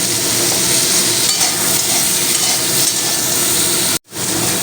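Slices of pointed gourd seasoned with salt and a little turmeric sizzle steadily in hot oil in a pan, a loud, continuous frying hiss that cuts off briefly near the end.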